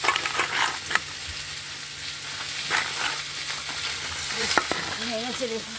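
Spinach fries in a wok with five-spice and dry chilli, a close sizzle and crackle under repeated scraping stirs, with faint voices near the end.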